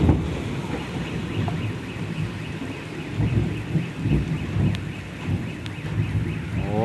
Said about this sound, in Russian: О, бабахнуло.